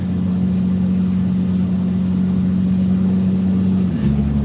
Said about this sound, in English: So we got first gear, second gear, third, and then kind of holds third for a bit.